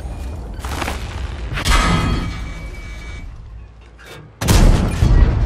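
Tank cannon shots in the World of Tanks video game land as heavy booming blasts, one near the middle and a louder one near the end, with rumbling thumps around them.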